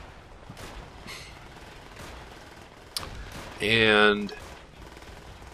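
Gunfire in the Call of Duty: World at War mission Heart of the Reich, near the 88 guns: a few scattered shots, then a loud, sustained automatic burst lasting about a second, with someone talking over it.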